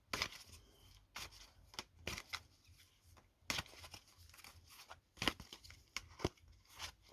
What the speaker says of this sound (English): I'll just take my time when I'm shuffling.